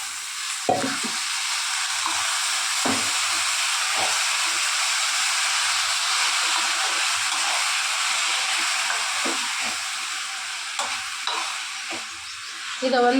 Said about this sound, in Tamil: நம்ம வேக வச்சு எடுத்து வச்சுருக்கிற வாழைப்பூ வந்து போட்டு அதையும் கொஞ்சம் வணக்குறோம்